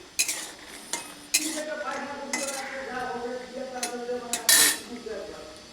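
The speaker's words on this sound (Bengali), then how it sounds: "লাল করে বড়িটাকে ভেজে নিচ্ছে" Lentil dumplings (bori) being fried in a wok, with metal spatula scrapes and clinks against the pan over a soft sizzle; a voice talks throughout in the foreground.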